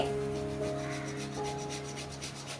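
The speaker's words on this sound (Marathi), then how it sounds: "किसनीवर मी हा बटाटा किसून घेते" A potato is rubbed against a hand grater in a kitchen, producing quick rhythmic scraping strokes close by over a faint steady hum, with no talking.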